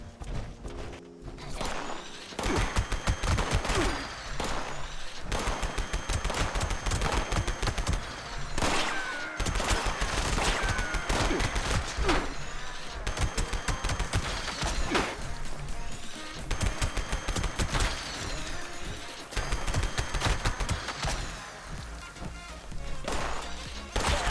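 Repeated single-barrel shotgun blasts and impacts from Fallout 76 gameplay, loud and dense, firing in quick irregular bursts throughout.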